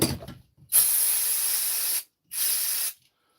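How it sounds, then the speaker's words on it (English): Two long hissing bursts of cleaner from a spray can, the first over a second long, the second shorter after a brief pause, close and loud. "spray in the cleaner in here"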